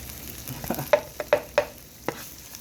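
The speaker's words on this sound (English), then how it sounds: "I'll saute all of that together to the tomato paste" Tomato paste sautéing in a pot with bay leaves and turmeric for jollof rice, a low sizzle under a few sharp scraping stirs spaced about half a second apart, close up.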